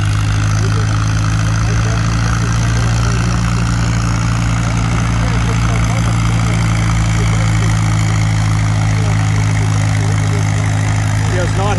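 An antique tractor engine drones loudly and steadily during a tractor pull, a continuous low, heavy rumble with a strong, even tone and no break.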